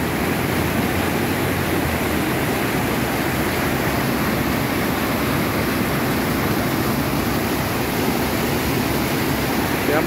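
A large, swollen river rushes beneath a bridge in heavy rain, a continuous broad roar of churning water, loud and steady with no talk.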